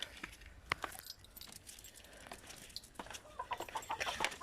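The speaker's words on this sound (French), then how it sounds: "Là, j'ai les poules des voisins qui sont encore là." Neighbours' hens cluck in short scattered bursts outdoors on a cool sunny morning, fairly close but quiet, with gaps of near silence and some light rustling between calls.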